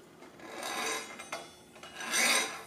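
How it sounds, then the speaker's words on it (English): A hacksaw blade rasping against a bearing race while cutting a relief in a caster bearing chase, two close strokes of harsh metallic scraping separated by short pauses. "So what we're going to do is use the hacksaw blade to go in and start"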